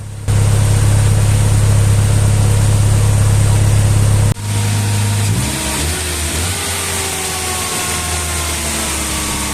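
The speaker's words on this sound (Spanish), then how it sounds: "Se observa al momento de encender el vehículo que está un poquito acelerado" A car engine with a faulty thermostat runs just after starting at a slightly raised idle, a loud steady hum that drops in speed partway through and settles into a lower, steadier idle.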